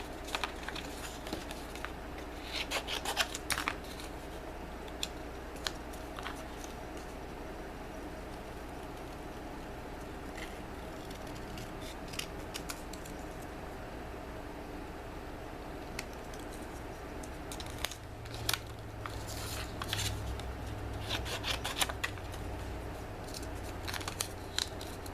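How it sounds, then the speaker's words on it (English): Scissors snip repeatedly through cardstock while cutting out paper hearts, the close crisp cuts coming in irregular clusters over a quiet steady room hum, with soft paper rustling between them. "I'm going to cut some hearts."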